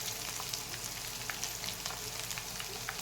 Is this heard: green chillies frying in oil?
yes